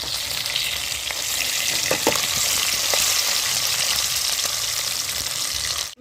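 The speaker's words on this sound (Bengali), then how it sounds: "এবার আমি বোয়াল মাছগুলো ভেজে নেব।" Pieces of boal catfish frying in hot oil in a wok, a loud dense crackling sizzle that runs steadily throughout, with a few faint stirring knocks and no talking.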